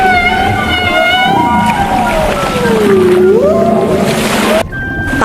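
A beluga whale calls with a long, sliding whistle that glides down and then rises again, with overtones, loud and continuous over a watery background.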